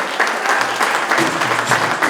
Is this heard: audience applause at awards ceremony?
yes